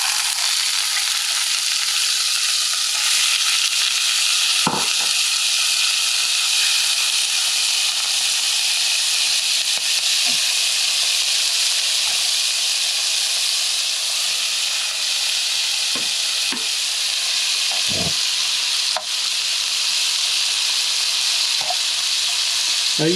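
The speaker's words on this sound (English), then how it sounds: "Next thing you do is you start to saute the vegetables." Vegetables sauté in a hot pan for Hawaiian fried noodles with Spam, giving a long, steady close sizzle and hiss broken by a few scattered clicks and stirring knocks.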